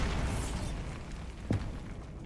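A Bombarda blasting spell explodes in Hogwarts Legacy, a deep rumbling boom that fills the space and fades, with a second sharp burst about halfway through, no voices.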